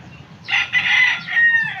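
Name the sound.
chicken crowing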